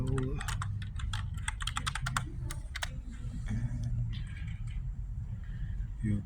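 Close rapid key taps on a computer keyboard type out a name in quick bursts, then slow to scattered clicks over a low background rumble.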